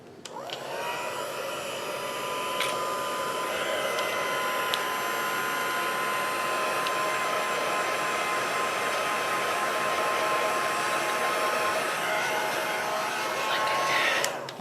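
A heat embossing tool blows steadily to dry wet stamped ink on a card-making project, a loud, continuous whooshing hum with a faint whine that runs unbroken for about fourteen seconds, alone with no talk.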